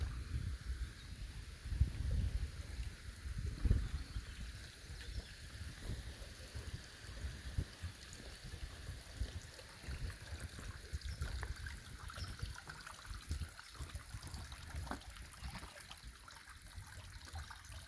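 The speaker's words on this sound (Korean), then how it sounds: "부처님 마음처럼 흐르는 물, 시원한 샘물" Cool spring water trickles steadily from a temple fountain at a Buddhist temple, a soft continuous dribble close by with a low rumble beneath and no talking.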